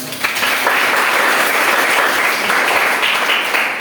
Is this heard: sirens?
no